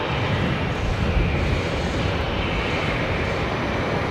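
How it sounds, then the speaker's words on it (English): A Qantas Link Airbus A220, the newest in the fleet, comes in to land at Brisbane Airport, its steady broadband engine roar loud and continuous throughout. "The A220 coming in, the newest A220 in the Qantas Link fleet"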